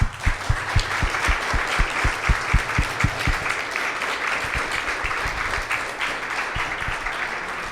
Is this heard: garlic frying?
no